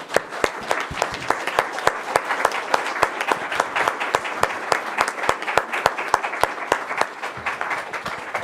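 Applause from the audience at a county Board of Supervisors meeting, honoring Code Enforcement Officer Appreciation Week in Lake County, with crisp individual claps sounding steadily and fairly close throughout.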